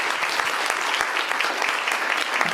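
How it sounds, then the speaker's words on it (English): A room full of listeners claps steadily for the panel speakers after a talk, a dense continuous patter of many hands at moderate loudness with no voices over it. "let's give a round of applause to our speakers"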